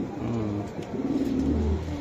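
A racer pigeon coos close by in low, soft, rolling notes that swell toward the end, with light background noise and no talking.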